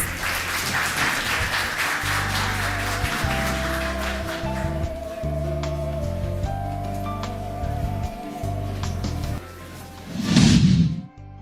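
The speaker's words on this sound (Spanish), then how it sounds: "con este aplauso les decimos hasta pronto" Applause from a gathered crowd rolls on steadily, then ends in a final loud burst of clapping before cutting off.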